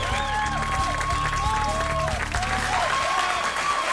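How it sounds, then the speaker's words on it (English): A crowd applauds Giuliani at a political event, steady dense clapping that fills the whole stretch with some cheering mixed in. "The crowd applauded Giuliani."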